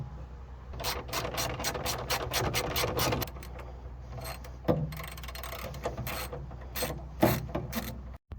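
Quick repeated ratchet clicks as a part is bolted onto a 1988 Volvo 240, arriving in busy bursts of pawl strokes with short pauses between them and a steady low workshop hum underneath.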